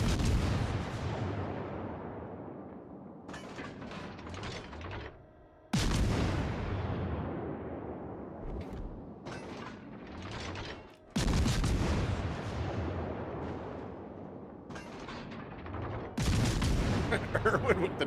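Bombs bursting in a video game, a dense rumbling barrage of explosions and gunfire rolling on continuously, with sharp renewed blasts at intervals and faint voices underneath.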